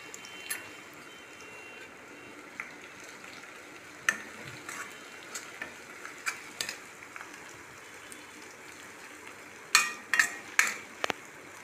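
Ginger garlic paste with turmeric stirred and frying in a pan for sweet potato pulao, a soft steady sizzle with scattered spoon scrapes and clinks, faint and close.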